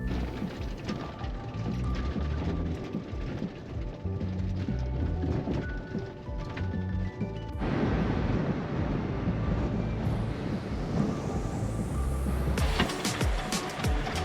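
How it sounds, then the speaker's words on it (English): A van drives a short, bumpy road down into a valley of giant cacti in Baja, with a continuous rumbling, rattling cabin noise and occasional jolts, close and steady throughout. "we made the short, bumpy drive down into the valley"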